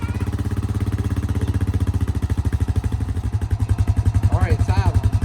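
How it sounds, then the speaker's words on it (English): A cheap four-wheeler's small engine runs with a steady rapid putter and a squeal, loud and close the whole time, with speech over it near the end. "It's alive! It's got a squeal to it."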